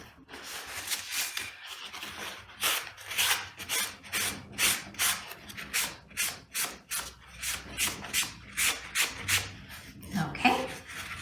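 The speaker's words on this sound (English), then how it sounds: "we're going to just wipe off the excess" Cloth wiping excess Amy Howard cerusing wax off a wooden surface, producing a steady series of rhythmic, close rubbing strokes with soft brushy swishes, about a dozen passes in a row.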